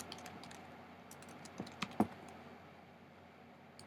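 Keys on a computer keyboard tapped lightly while a project name is entered in Xcode, a short quiet burst of clicks with one slightly louder keystroke around the middle, against a soft room hiss.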